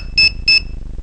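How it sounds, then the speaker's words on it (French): Two short electronic beeps in quick succession from a FuriousFPV F35 Lightning drone flight controller on low battery, high-pitched and clear, over a low background hum. "Ah, un bip."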